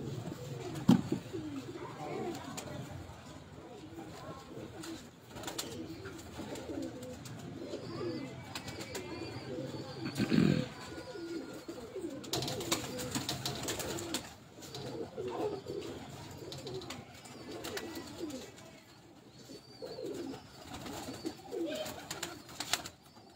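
Pigeons coo steadily on a rooftop loft, a dense, continuous murmur of overlapping low, throaty calls from several birds close by, with brief louder flutters and occasional faint chirps mixed in.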